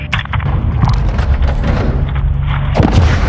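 Heavy gunship artillery fire in an Ace Combat air-combat game, a dense run of deep booming impacts that rumble continuously with a sharper blast near the end, loud and close.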